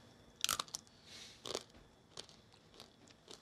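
Crunchy tortilla crisps, little chips for tortilla soup, being bitten and chewed up close, several quiet sharp crunches spaced irregularly with brief pauses between bites.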